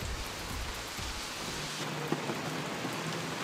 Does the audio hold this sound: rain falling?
yes